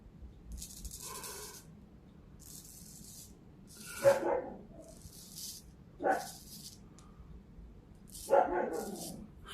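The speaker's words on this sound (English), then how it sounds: "Excuse the dog barking." A dog barks a few times at a distance, with short separate bursts spaced several seconds apart and quiet scraping sounds between them.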